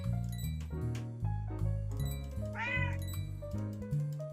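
A cat meowing in the video game A Building Full of Cats, one clear drawn-out meow over looping game music.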